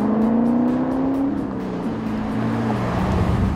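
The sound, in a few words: car driving a slalom exercise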